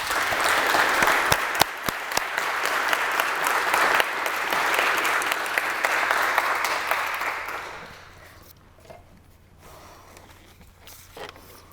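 An audience at a piano recital breaks into loud, dense applause that holds steady for about eight seconds, then drops away to quiet room tone with a few scattered claps.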